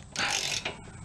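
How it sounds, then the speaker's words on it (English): Axle bolt on a Coleman CT200U minibike being loosened with a ratchet, giving a brief close series of clicking, metallic ratcheting sounds lasting about half a second. "with the chain popped off, we're gonna want to now loosen our axle bolt"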